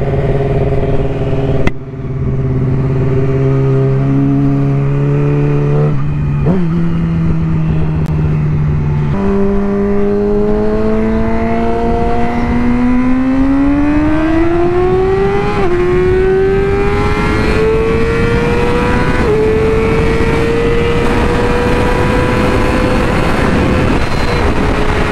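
A Yamaha R6 sport bike roars loudly and close on a highway, its high-pitched engine note climbing steadily through the gears with brief dips at each shift, wind noise rushing underneath.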